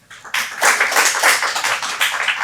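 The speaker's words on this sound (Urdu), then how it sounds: "آپ کی بھرپور تالیوں میں" Hall audience at an Iqbal Academy Pakistan international conference applauds as Professor Dr. Rafique Khan is welcomed to speak, with dense, steady clapping that starts abruptly and holds evenly, no voices over it.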